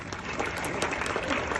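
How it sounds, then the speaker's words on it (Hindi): A Republic Day audience at a hospital college function applauds in honour of Dr. Bhimrao Ambedkar, a brief, dense burst of crowd clapping with faint voices mixed in. "उनके लिए एक बार तालियां।"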